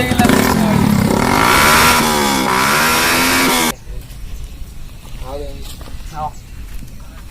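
A motorcycle engine revs loudly and close by for several seconds, its pitch rising and falling, then cuts off abruptly as people talk over quieter background noise.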